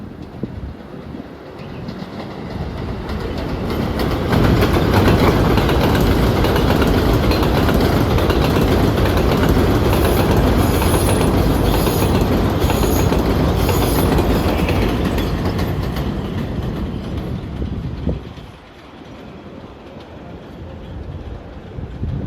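An express 7 line subway train pulls into a New York City station, a loud, sustained rumble of wheels and cars that builds over several seconds and holds steady before easing off near the end.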